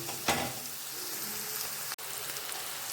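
Cauliflower frying in a pan, a steady soft sizzle that holds evenly throughout, close but moderately quiet, with one brief stir near the start and a sharp click partway through.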